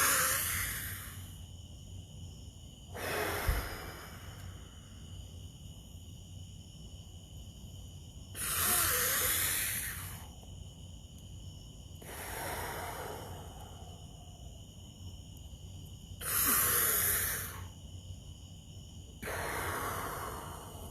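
Deep, forceful exhalations in a slow, repeated breathing and breath-holding exercise: about six long breathy outbreaths spaced a few seconds apart, each followed by quiet held pauses, close to the microphone with no talking.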